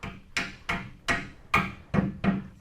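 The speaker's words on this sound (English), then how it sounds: "Use the hammer. Motivate it along." A hammer drives a bracket onto the front portion of a Ford Bronco skid plate: about seven sharp, evenly spaced metallic strikes, close and loud, with no talking.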